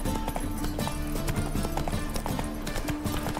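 Roach the horse in The Witcher 3 trotting along, hooves clip-clopping in a quick steady rhythm, mixed with game ambience and music at a constant level.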